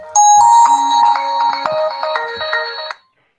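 A phone ringtone plays for an outgoing call, a loud, clean electronic melody of rising and falling tones that runs for about three seconds and then stops.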